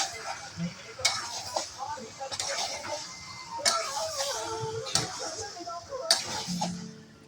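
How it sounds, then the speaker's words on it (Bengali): Chicken tossed with spices in a pan, stirred with a utensil: repeated sharp metallic clinks and scrapes against the pan over a soft sizzle, with a voice talking throughout. "এবার আমি মশলা দিয়ে আর চিকেনগুলিকে দিয়ে মিশিয়ে কষিয়ে নেব সুন্দর করে"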